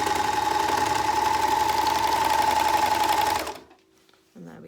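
An overlocker stitches fabric pieces for a reusable storage bag, a steady, loud, fast mechanical whirr that runs for a few seconds before stopping abruptly, followed by a short quiet hum and a faint rustle of handling.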